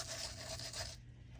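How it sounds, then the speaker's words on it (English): Light sanding across cardstock for handmade card making, a dry rhythmic rubbing rasp in close strokes that stops after about a second. "And if we kept sanding it, we would eventually get to the brown cardstock at the back."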